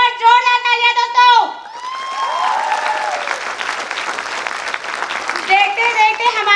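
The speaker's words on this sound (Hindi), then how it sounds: "एक बार जोरदार तालियां दोस्तों।" Audience applause with cheering and whoops breaks out at a company's second anniversary celebration, following a voice on a microphone, then holds as a dense, steady wash of clapping before the voice returns near the end.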